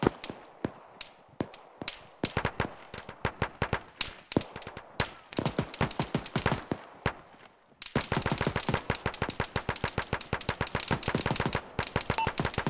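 Dense gunfire in the military video game Arma, with rapid bursts of automatic fire and single shots crackling in steady succession, growing into a sustained stream of closely spaced reports over the second half.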